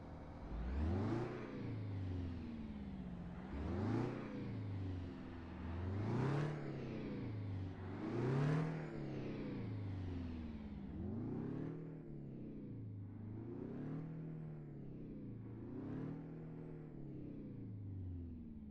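Diamond Reo Royale truck engine in American Truck Simulator, cranking and catching, then revving repeatedly in rising and falling surges, loud and close, settling into a steadier lower rumble with smaller blips, no voices.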